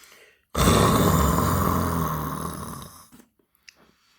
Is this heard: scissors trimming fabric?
no